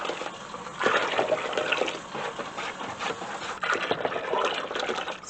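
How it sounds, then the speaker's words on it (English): Steady rushing of hot tap water pouring into a container, a continuous splashing flow with slight surges, fairly close and loud, no voices. "this is hot tap water."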